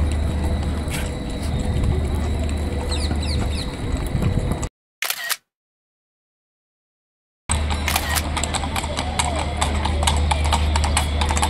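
Police horses' hooves clip-clop steadily on a hard street surface in Seville, with faint voices in the background and a brief dropout of sound midway.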